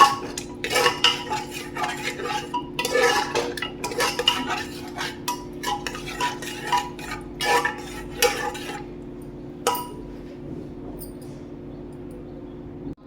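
A metal spoon clinks and scrapes repeatedly against a pot while curd is stirred into biryani masala for kushka biryani, in quick close rattling bursts over a low hum, stopping near the end.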